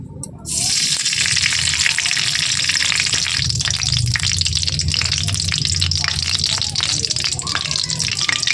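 Whole garam masala and bay leaves dropped into hot ghee in a kadai, a sudden loud, dense sizzle that starts abruptly and holds steady, crackling throughout.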